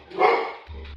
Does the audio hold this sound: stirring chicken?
no